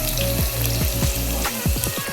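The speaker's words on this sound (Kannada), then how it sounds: "ಬೆಳ್ಳುಳ್ಳಿ ಹಾಕ್ತಾ ಇದ್ದೀನಿ ನೋಡಿ" Crushed garlic hits hot oil for tempering, a dense, loud, continuous sizzle and crackle close up, with a few clinks and stirring sounds under it.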